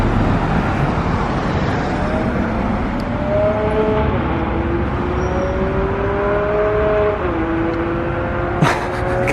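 A distant Ferrari or Bugatti sports car engine, heard in Monaco near Place du Casino, drones and shifts pitch as it accelerates, rising and settling against steady road noise, with a brief sharp knock near the end.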